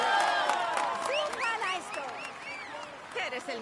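Crowd at a cycling stage finish applauding and cheering the winner, a busy layer of clapping and cheers mixed with voices and whistle-like calls, fairly close and continuous.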